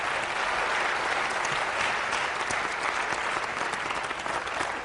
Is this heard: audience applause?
yes